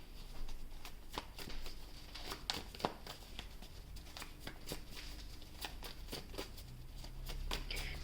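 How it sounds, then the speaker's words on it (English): Tarot cards being shuffled close up, a quiet continuous run of papery flicks and riffles with no talk. "we're going to shuffle the next one"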